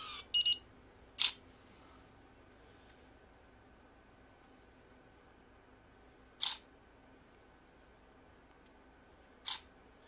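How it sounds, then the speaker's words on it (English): A phone camera plays its artificial focusing sound and focus-confirmation beep: a few short, faint electronic chirps scattered across quiet stretches, two close together at the start and two more spaced out later. "you can hear that artificial focusing sound and beep when you achieve focus"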